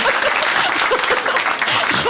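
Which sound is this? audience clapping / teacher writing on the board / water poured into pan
audience clapping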